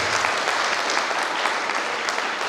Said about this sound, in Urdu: ویسے تالیاں بنتی ہیں کہ ان کو آپ اپریشیٹ کریں